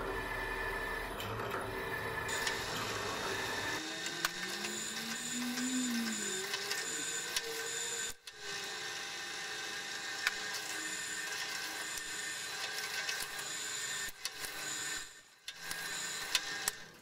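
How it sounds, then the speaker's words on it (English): An electric drill bores a hole in metal for a modified Gingery dividing head, a steady whining grind with pitch shifts as the bit works, briefly cutting out twice and stalling near the end. "Drill jammed."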